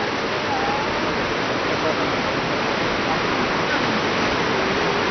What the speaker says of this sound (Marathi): आणि ते खाली एक वॉटरफॉल पण आहे